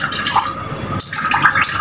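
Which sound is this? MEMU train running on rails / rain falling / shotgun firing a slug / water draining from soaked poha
water draining from soaked poha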